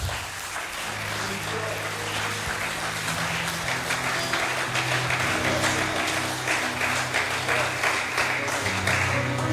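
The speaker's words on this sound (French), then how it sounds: "Can I give the Lord a clap offering, everybody?" A church congregation claps for the Lord, sustained loud applause with rhythmic clapping and a low musical backing, some cheering voices mixed in.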